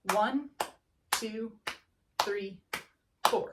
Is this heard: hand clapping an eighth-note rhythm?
yes